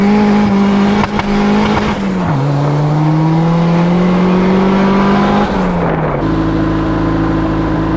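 A turbocharged Honda Civic with its boost turned up revs hard, its loud engine drone climbing and dipping in pitch through several pulls before settling into a steady high idle, close and continuous with no talking.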